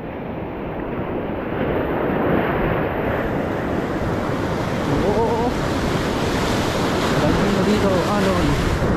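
Ocean waves break among rocks with a continuous loud surf wash, while strong wind buffets the microphone throughout.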